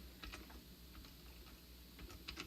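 Keys clatter on a computer keyboard as someone types in a code statement during a programming class demo, a quiet, uneven patter of soft clicks heard alone at low level.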